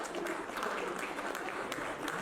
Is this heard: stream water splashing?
no